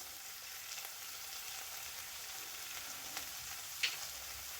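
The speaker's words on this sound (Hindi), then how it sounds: "इन सभी चीज़ों को हम अच्छे से पहले मिक्स कर लेते हैं" Schezwan, tomato ketchup, green chilli, soy and red chilli sauces mixed in a frying pan for masala noodles, a faint steady sizzle with a few light scrapes and one small sharp clink near the end.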